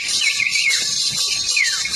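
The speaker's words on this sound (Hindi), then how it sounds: "देख साथ सीटियां मार रहे हैं।" High, sliding whistles from people at a bull race rise and fall repeatedly over a steady background hiss, several overlapping whistled notes carrying through the two seconds.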